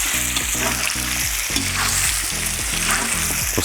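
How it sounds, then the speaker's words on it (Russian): Large pieces of meat fry in a cauldron for green sorrel borscht, a loud steady sizzle with repeated rhythmic stirring scrapes and clatter throughout. "Обжариваем мясо минут 10."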